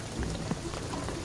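Rain falls in the Shadow of the Tomb Raider video game, a steady, dense, broadband hiss with no talk over it for a little over a second.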